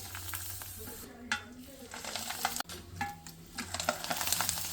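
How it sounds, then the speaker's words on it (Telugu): Potato papads, homemade and sun-dried, frying in hot oil in a home kitchen, giving a steady close crackling sizzle with scraping and stirring clatter over it across the whole stretch. "ఇవి ఆలుగడ్డ అప్పడాలు సమ్మర్లో చేసి పెట్టుకున్నా. ఇవి ఫ్రై చేస్తున్నా."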